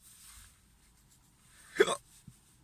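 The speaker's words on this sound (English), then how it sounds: "Hiccups" A single sharp hiccup stands out close and fairly loud, with a faint second catch just after it, during an outdoor walk through snow with only low background noise.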